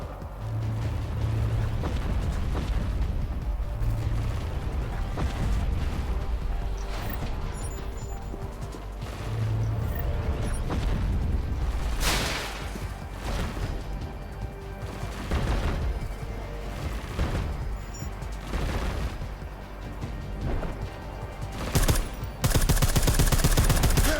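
Weapon fire in Deus Ex Mankind Divided: bursts of rapid gunfire and sharp single shots with crashes and booms scattered across a tense stretch of game combat, growing heavier toward the end.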